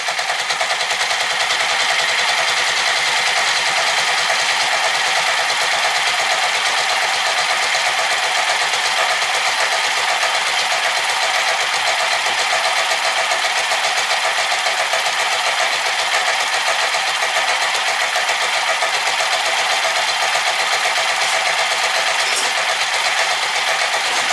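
A 1984 Yamaha Riva 180 scooter undergoing a rebuild idles on a cold engine, a loud, steady, rapid buzzing putter that runs without a break, close by and with no voices.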